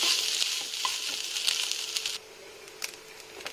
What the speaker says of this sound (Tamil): சாதம் சேர்த்து நல்லா மிக்ஸ் பண்ணிக்கிங்க.